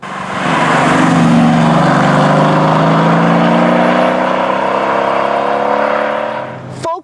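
Mercedes-AMG GT S sports car exhaust revving up, a loud, close engine roar rising smoothly in pitch over several seconds, holding high, then cutting off abruptly at the end.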